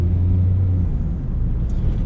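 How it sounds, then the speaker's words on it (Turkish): A red Jeep 4x4's engine runs with a steady, close low rumble under acceleration, holding a deep, even drone throughout. "Şöyle bir gaza basalım."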